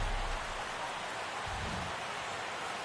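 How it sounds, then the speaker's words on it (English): Steady rain pours over Petco Park in San Diego at game time in a baseball video game, a dense, even hiss of downpour holding constant with no voices. "Rain falling here at game time"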